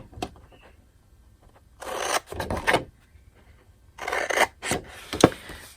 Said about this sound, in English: I'm going to take my scissors and I'm going to cut up to the score line